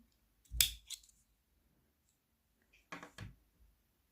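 Scissors snipping embroidery thread at the root during needle lace work, two quick close crisp cuts, the first at once and the second after a pause of about two seconds, in otherwise quiet surroundings.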